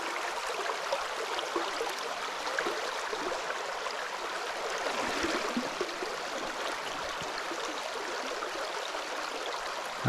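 A river rushes steadily, a continuous broad hiss and gurgle of flowing water heard close and unbroken, with no voices over it.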